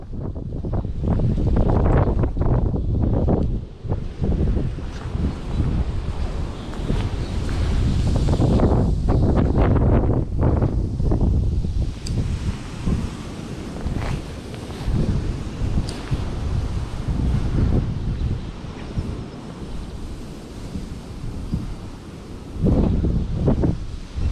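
Strong wind gusts buffet an outdoor microphone beside the water while spoon fishing at Zievericher Mühle, a loud continuous roar that rises and falls in surges for the whole stretch, with no voices.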